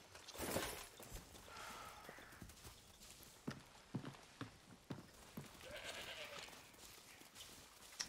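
Faint goat bleats in a quiet Far Cry 6 game scene, with scattered hoof-like clops and soft rustling between the calls.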